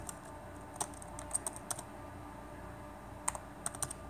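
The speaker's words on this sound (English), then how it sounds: "Typing with one hand." Computer keyboard typed one-handed while setting up a page, giving faint, irregular key clicks in small clusters with pauses between them, close and quiet.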